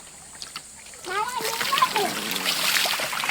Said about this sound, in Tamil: இனிமேல் தண்ணி ஊற்றுவோம்